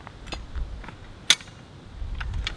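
A Hi-Lift jack's reversing latch is worked while winching a 4x4 on a chain, giving a few light metallic clicks and ticks and one sharp, loud clack in the middle over a quiet background.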